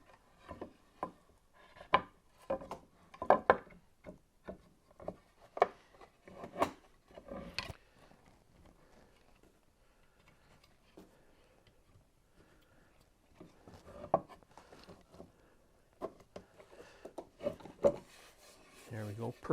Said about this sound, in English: I'm going to take a quick moment and do a dry fit to make sure they all fit.